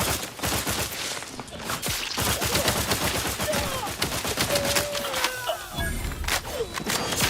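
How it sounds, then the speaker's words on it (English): Shotgun fire in The Outer Worlds 2 combat: a dense run of sharp, booming blasts keeps coming close together over several seconds amid loud gameplay noise, with faint whistling tones. "Shotgun."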